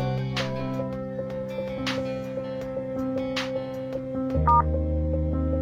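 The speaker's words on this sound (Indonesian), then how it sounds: "Aku telepon dulu." A telephone is dialed, with several separate keypad beeps sounding at uneven intervals over a steady bed of background music.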